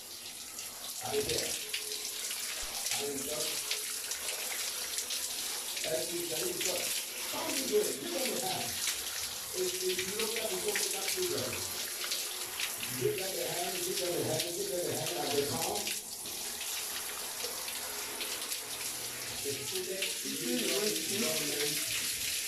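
Tap water runs steadily while hair is rinsed during a natural oatmeal and corn flour conditioning treatment, a continuous close splashing rush with someone talking intermittently over it.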